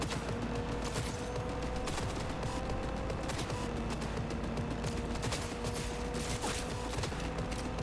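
Dense, continuous gunfire from Cyberpunk 2077 rattles on without a break. It forms a busy, loud wall of shots with no voices over it.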